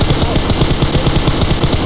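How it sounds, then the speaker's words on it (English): Rapid bursts of automatic gunfire crackle continuously and loudly through a finals match of the GamelinG Gauntlet esports tournament, shots coming from several directions with no voices over them. "now they're getting gunshots from all angles"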